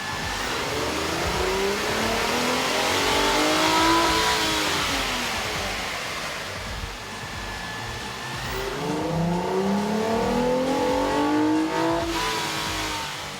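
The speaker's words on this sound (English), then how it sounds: "we ran the vehicle on the dyno to test the sound comparison versus the stock intake" A Ford Flex 3.5L V6 fitted with a K&N air intake revs on a dyno, its engine note rising and falling in sweeping climbs through the gears, loud and close with strong intake roar and no voices.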